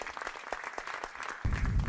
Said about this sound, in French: Puis, un tonnerre d'applaudissements.